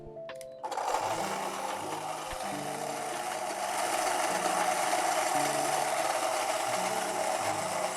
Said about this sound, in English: I'm gonna grind my coffee. We are grinding on 8.